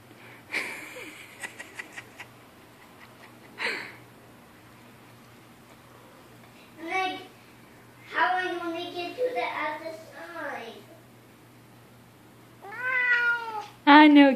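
A house cat meows several times with a new bed and catnip around, short separate calls spaced apart, some drawn out and rising, close and clear, while a person speaks softly between them in a quiet room.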